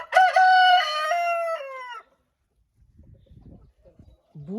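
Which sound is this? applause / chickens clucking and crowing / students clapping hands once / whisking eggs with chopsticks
chickens clucking and crowing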